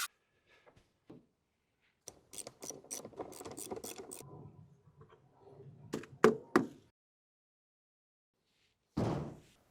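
A door is worked loose and removed from a mini excavator, giving scattered metallic knocks, rattles and taps, a flurry of clanks, then a final heavier thud after a pause.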